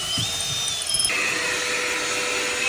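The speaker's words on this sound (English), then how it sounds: "after getting those two holes drilled there from the bottom up" A power drill whines at high speed, its pitch dropping as the bit bites in, then steadies into a loud continuous grinding while drilling holes upward from the bottom of a boat.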